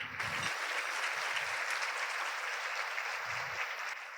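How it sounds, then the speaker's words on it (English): An audience at a regional awards event honoring women leaders breaks into a sustained round of applause, steady and dense throughout, with a few low murmurs underneath. "Let's give them a round of applause."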